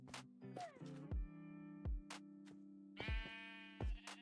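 Sheep in a video game wool farm bleat several times in short, clear, nasal calls, some overlapping, mixed with crisp scratchy clicks and no voices.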